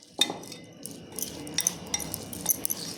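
Grated cheese is mixed in a bowl for a cheese paratha, with scattered light clinks and taps of a spoon against the bowl over a soft scraping stir, all close and fairly quiet.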